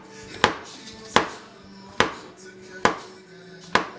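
A knife cuts portobello mushrooms on a cutting board in five evenly spaced, crisp chops, each a sharp close thud against the board, with a faint background hum between strokes.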